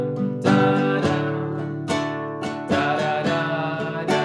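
Guitar playing the Happy Birthday tune, with picked notes and chords ringing close and clear in a steady rhythm.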